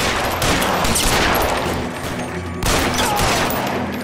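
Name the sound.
gunfire in LA Noire video game shootout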